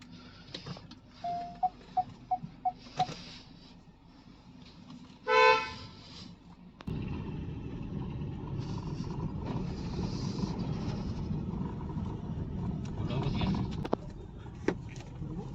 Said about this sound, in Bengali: বাঙ্গা রাস্তার মাঝে দেখেন রিডাকশন গিয়ারের সাউন্ড কীরকম করে